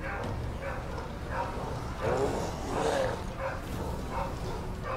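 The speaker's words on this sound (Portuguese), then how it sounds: "esse barulho dos cachorros loucos aqui" Several excited dogs bark and yip at a passing garbage collection, distant to mid-range bursts of barking over a steady low hum, with brief whimpering yelps.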